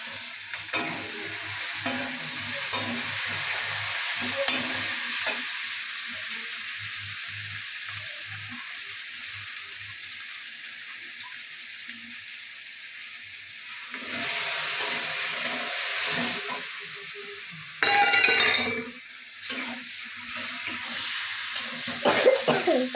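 Spices frying in oil in a pan for a mutton curry, a continuous close hiss and sizzle with occasional stirring clatter and a brief louder burst near the end, and no talking.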